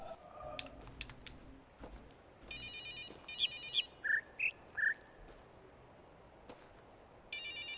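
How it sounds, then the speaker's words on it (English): A phone rings inside the video game The Witness, a pattern of electronic ringtone bursts and short tonal beeps, along with scattered clicks and taps. "Why is there a phone ringing?"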